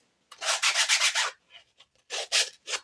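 Sandpaper rubs back and forth over the edges of a paper mache box, a quick run of brisk close scrapes followed by a pause, then a few more strokes.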